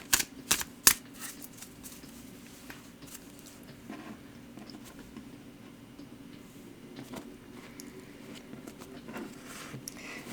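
Quick riffling and soft slaps of tarot cards being shuffled, a few sharp snaps at the start, then steady light patter with no voices.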